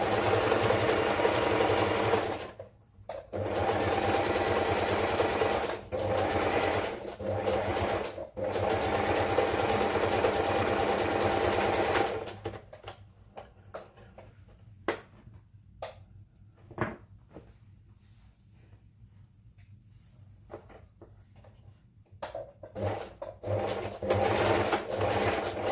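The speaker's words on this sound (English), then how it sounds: "I'm going to do a zigzag stitch, a small zigzag stitch" A sewing machine set to 4 runs a small zigzag stitch in loud bursts of several seconds each, separated by short pauses, then falls to quieter handling noises before starting up again near the end.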